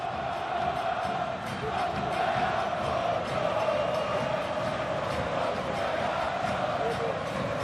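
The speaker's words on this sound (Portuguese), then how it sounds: "Aumenta o volume a torcida do Vasco em São Januário." Vasco football supporters at São Januário during a Campeonato Carioca match against Botafogo, a continuous roar of chanting crowd filling the stadium, steady and loud, with a commentator speaking over it.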